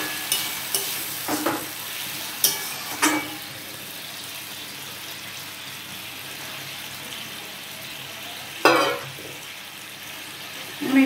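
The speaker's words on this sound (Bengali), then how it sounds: "আমি এবার একটু জল দিয়ে এগুলোকে" Frying potatoes and spices in a pan with a steady sizzle and scattered stirring scrapes, then a sharper hiss as a splash of water is poured in.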